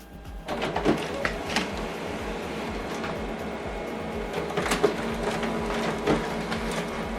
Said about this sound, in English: So now this document is going to print out.